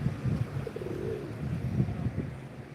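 Pigeons cooing in a park, soft repeated low coos close by over steady outdoor background noise, with no talk.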